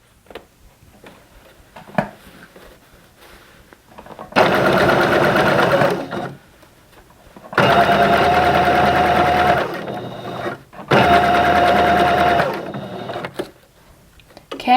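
A sewing machine stitches elastic onto a leotard in three loud, steady runs of a few seconds each, separated by quiet pauses with small handling clicks.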